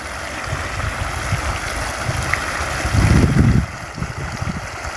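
Fresh water gushes from a motor pump into a farm channel, a steady nearby rushing flow with a louder splashing surge partway through before settling back.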